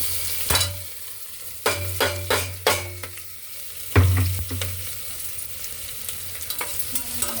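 Chillies sizzling with drumstick leaves and garlic in a pan, a low steady fry broken by several sharp spoon scrapes and knocks against the vessel.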